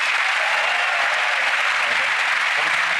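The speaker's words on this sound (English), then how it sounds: "Give Sarah a big round of applause," A theater audience on a magic competition show breaks into steady, dense applause that fills the room evenly from start to finish, loud and sustained without pause.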